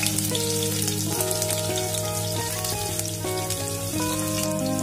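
Cumin seeds and chopped green chilies sizzle steadily in hot oil, a dense continuous frying crackle that stays loud and close throughout, with a few faint tonal hums from the pan beneath it.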